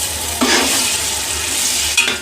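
Chopped tomatoes and spice masala fry and get stirred in a pan while cooking matar pulao, giving a steady close sizzle with two sharper bursts of spatula scraping and spitting oil.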